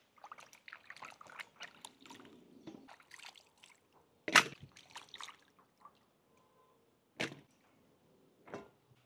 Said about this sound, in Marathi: आपण आता कांदे स्वच्छ पाण्याने धुवून घेऊ। टमाटे पण आपण स्वच्छ पाण्याने धुवून घेऊ।